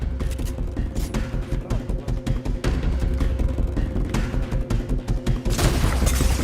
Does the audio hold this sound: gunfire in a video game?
yes